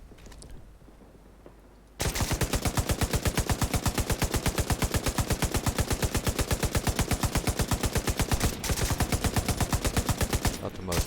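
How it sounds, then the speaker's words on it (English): An M60 machine gun fires in The Division 2, a long rapid sustained burst of evenly spaced loud shots that starts abruptly after a quiet moment and keeps hammering nearly to the end. "Not the most stable weapon, the M60 of course."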